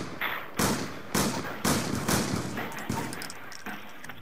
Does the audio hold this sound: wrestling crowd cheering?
no